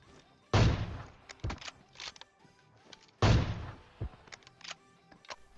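Two loud, sharp gunshots from an AWM sniper rifle in the video game PUBG Mobile, spaced a few seconds apart, with fainter clicks and thuds in between.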